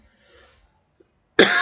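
After a near-silent pause with faint background noise, one loud close cough bursts out and rings on to the end.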